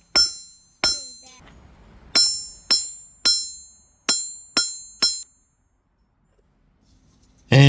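Sharp metallic hammer strikes on copper ring out one after another, about eight bright clanging blows with ringing decay, then a pause into silence.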